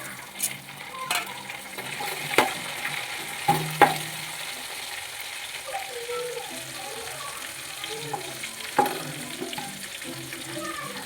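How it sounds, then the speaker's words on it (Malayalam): Green chillies dropped into hot oil with curry leaves already frying in a pan, giving a steady sizzle with a few sharp pops and stirring clatters, no talking. "ഇനി നമുക്ക് പച്ചമുളക് ഇട്ട് കൊടുക്കാം"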